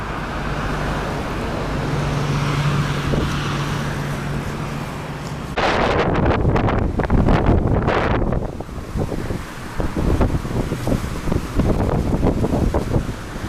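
Strong winter wind in Alanya buffets the microphone, first as a steady hollow rumble, then as louder, ragged gusts that surge and drop in bursts.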